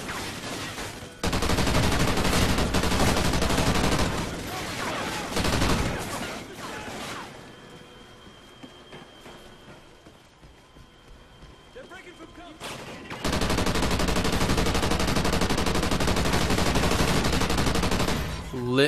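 Sustained bursts of light machine gun fire in Call of Duty: Ghosts, loud and dense for long stretches, dropping to a quieter lull mid-way before heavy automatic fire resumes, with speech mixed in.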